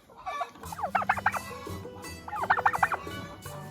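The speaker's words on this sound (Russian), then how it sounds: "Индюки увидели яблоки." Domestic turkeys eager for apples gobble in two loud, close bursts of rapid, wavering calls, separated by a stretch of quieter background clucking and rustle.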